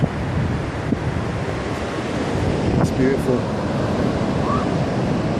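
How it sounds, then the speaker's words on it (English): Ocean surf rolls steadily on a windy shore, a continuous broadband wash with wind buffeting the microphone throughout, while a person speaks briefly over it. "it's quite windy here, but look at that surf."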